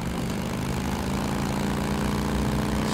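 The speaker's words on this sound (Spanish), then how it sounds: "Esta no tiene nitro, ¿no? Es una moto básica." A basic motorbike without nitro in the video game Days Gone idles and runs with a steady, loud, droning engine rumble that holds constant throughout, with no talk over it.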